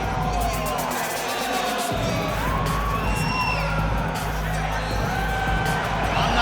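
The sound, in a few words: arena crowd cheering in the EA Sports UFC 5 video game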